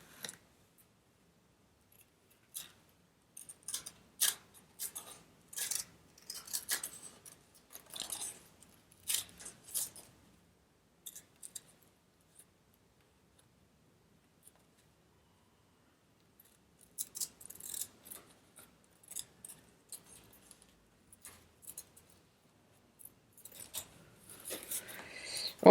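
Scissors snip through excess paper around glued-on card backgrounds, a run of quick close crisp cuts in short bursts separated by pauses, quiet and alone.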